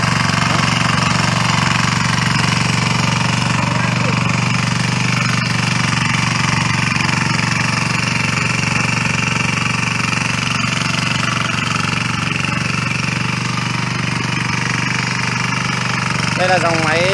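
A Ristar 178 diesel tiller engine runs steadily and loudly on a cornfield plot in Nghệ An, giving a constant close chugging drone for the whole stretch.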